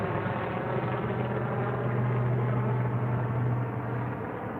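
A helicopter passes overhead, heading toward the city, a steady droning rumble with a low throbbing hum that holds even and loud throughout, with no one talking.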